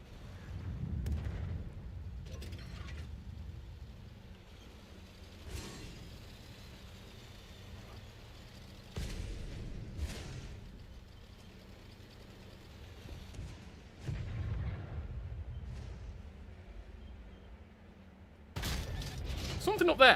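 Tank cannon shells firing in World of Tanks Modern on console, with the DBV-152 and C1 Ariete in play: several heavy booms spaced seconds apart, each trailing into a rumbling decay, under a low steady background and occasional voices.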